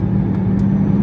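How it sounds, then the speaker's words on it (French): A Lamborghini Aventador SVJ's V12 engine hums in a loud, steady, low drone from close by, heard alone without voices. "vous allez juste avoir le bruit du V12."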